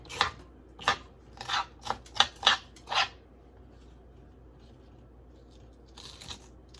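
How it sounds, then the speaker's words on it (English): A knife slices sweet peppers on a cutting board, giving about seven crisp, separate chops over three seconds, then a pause and a faint pair of cuts near the end. "Split them down the middle. Stand them up, continue cutting them."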